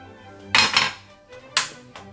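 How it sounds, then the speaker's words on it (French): A kitchen knife halves bananas: three sharp, hard clicks, two close together and then one more, as the blade strikes a board or plate in an otherwise quiet room. "je vais alors couper mes bananes en deux"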